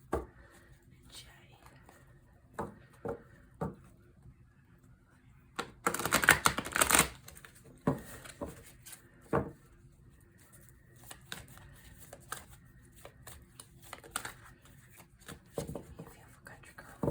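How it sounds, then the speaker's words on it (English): Tarot cards shuffled in soft bursts, with a louder riffle in the middle, under quiet intermittent talk and small tapping sounds. "I like to shuffle for a little bit to try to get the energy on the cards."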